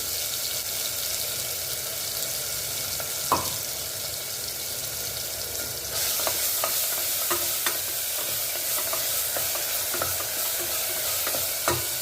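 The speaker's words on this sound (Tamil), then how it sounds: "வெங்காயம் நல்லா வதங்கி வரட்டும்" Onions sizzle steadily in hot oil with curry leaves, mustard seeds, fenugreek and cumin, the constant frying hiss punctuated by frequent near clicks and scrapes of a spoon stirring the pan, a little louder in the second half.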